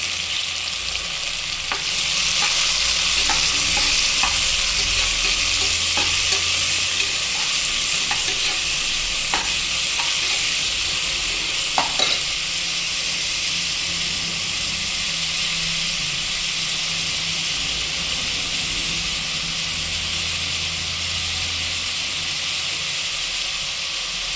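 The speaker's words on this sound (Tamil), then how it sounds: "வெங்காயம் நல்லா வதங்கட்டும் ஃப்ரெண்ட்ஸ்" Onions sautéing in a pan for mutton kuzhambu curry make a loud, dense, continuous hiss and sizzle up close, with occasional scraping stir strokes early on and no speech.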